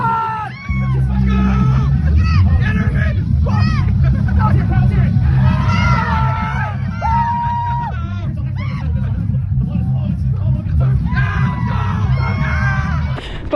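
A loud crowd cheers, yells and whoops continuously around an arm wrestling match, dense overlapping voices forming a steady roar with shouts rising and falling throughout.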